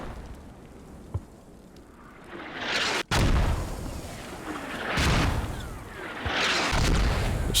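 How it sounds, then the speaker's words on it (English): Mortar explosions in the video game Squad, several deep booming blasts landing a few seconds apart, moderately distant, each rolling out into a long rumbling tail over a steady battlefield background. "There's definitely enough fire to come out of here that they're going to commit some more mortars."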